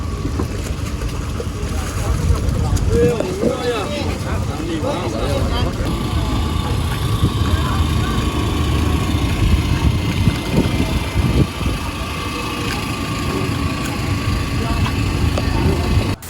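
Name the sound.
fishing harbor pier ambience with boats in Jakarta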